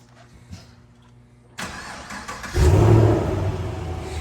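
A 2014 Chevy SS V8 cranks over after a quiet moment, then fires and catches with a loud, deep rumbling burst that settles into a strong, steady idle close by.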